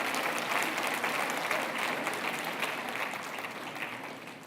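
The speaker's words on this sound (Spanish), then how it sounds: "Ahora se aplauden, ¿verdad?" A congregation claps steadily through a sermon, a dense, even wash of applause from a fairly distant audience that slowly tapers off, with no voices over it.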